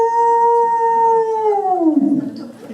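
A voice imitates a moose holler, a loud sustained howling tone that holds steady and then slides downward and breaks off, heard alone.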